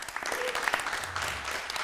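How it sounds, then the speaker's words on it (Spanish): A short burst of audience applause for the director of the short film Carnicero at a film forum event, brisk clapping close by at moderate loudness with some room noise. "nos da un aplauso para Andrés,"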